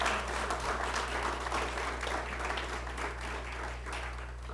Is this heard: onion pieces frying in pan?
no